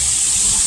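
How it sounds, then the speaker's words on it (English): Shower water pours loudly and steadily from a bathroom tap in a shower room, a close, constant hiss with no voices. "And then you turn off the water."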